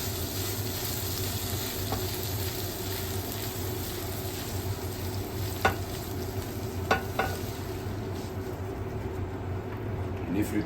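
Vegetables frying in a pan give a steady, moderately loud sizzle throughout, with a few faint utensil clicks, and a voice speaks over it.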